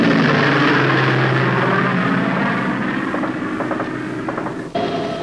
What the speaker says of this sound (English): Jim Russell was flying again